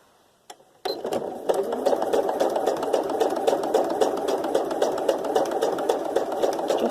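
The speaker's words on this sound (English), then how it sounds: "So I'm just going to sew down there." A sewing machine stitches white cotton thread through quilting fabric scraps, starting after a brief click and then running in a continuous rapid mechanical whir with fast needle ticks, close and fairly loud, no talking.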